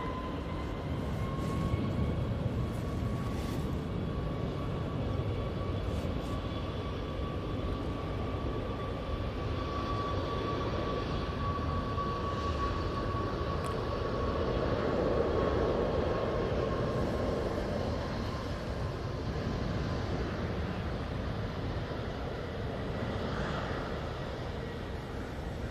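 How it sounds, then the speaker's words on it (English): A Boeing 737 MAX 8 departing Manchester Airport for Cork, a steady distant jet engine roar with a faint whine, holding level and swelling slightly midway. "will be going back off to Cork using the 737 MAX 8"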